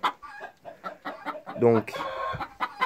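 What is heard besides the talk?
laying hens clucking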